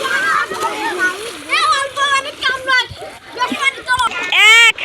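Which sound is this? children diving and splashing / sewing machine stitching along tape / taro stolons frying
children diving and splashing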